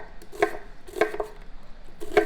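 A knife slicing through a red onion on a cutting board, three crisp separate cuts, quiet and close.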